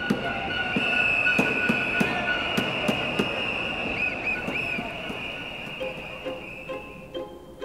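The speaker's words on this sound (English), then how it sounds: "we are also used to the noise of the trains" Trains rumble through Zurich main station with metallic clanks, a sustained high wheel squeal, and scattered knocks and hisses, without talk.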